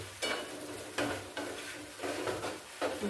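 A spoon scrapes and stirs spices cooked down with a little water in a pan for a Bengali papaya curry, in a few rhythmic strokes about half a second apart, close and clear with a faint sizzle underneath.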